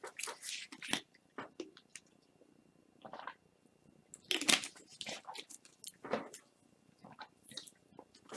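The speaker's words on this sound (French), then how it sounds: "je vais boire un petit verre d'eau" Someone sips a small glass of water up close, with a scattered run of soft gulps, swallows and wet mouth sounds between quiet pauses and no talking.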